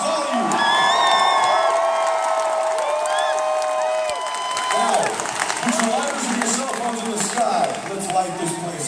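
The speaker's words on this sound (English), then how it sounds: "Give them a round of applause, all of you." A concert crowd claps, cheers and whoops, dense and continuous, while a loud voice shouts over the noise, with music fading out early on.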